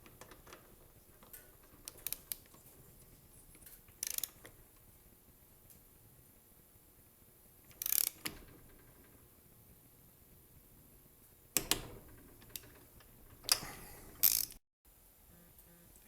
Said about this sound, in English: Take your torque wrench, which should be set to 180 inch-pounds if you have a torque wrench, and tighten the plug.